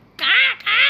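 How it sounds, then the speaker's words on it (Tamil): A crow in the horror game Granny 3 gives two short, harsh, close caws in quick succession, loud and nasal in tone. "இங்கே ஒரு காக்கா இருக்குது"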